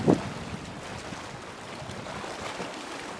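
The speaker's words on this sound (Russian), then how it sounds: "постоянно волной ударяется камень вот этот впереди" Sea waves roll in and strike a rock off a warm beach as the weather turns ahead of a storm, making a steady, rushing roar of surf mixed with wind noise, with a louder hit at the start.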